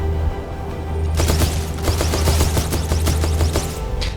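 Rapid gunfire from the smart pistol in the shooter game Titanfall 2, a dense run of sharp, loud shots over a low game rumble, with no voices.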